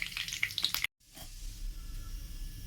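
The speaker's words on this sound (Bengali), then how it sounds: "পেঁয়াজ রসুন ভালোভাবে ভেজে নেব।" Onion and garlic fry in oil with panch phoron, dried red chilli and bay leaf for a greens and poppy-seed dish, giving a close, crackly sizzle that cuts out abruptly. A softer, steady frying hiss follows.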